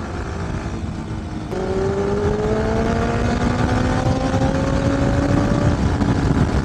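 A Benelli 600i motorcycle with an aftermarket exhaust rumbles steadily, then its engine note steps up and holds a rising, loud drone on a ride, alone without voices.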